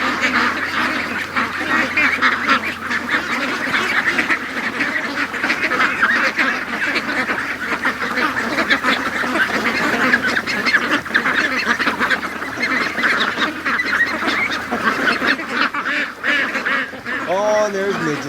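A dense, continuous chorus of many free-range ducks quacking and honking loudly and excitedly, close by, rushing out of their pen in the morning, with no break for the whole stretch.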